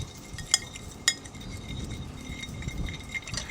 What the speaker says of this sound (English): I'm just going to whisk it up, mix everything nice here.